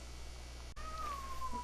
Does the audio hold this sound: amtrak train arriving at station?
no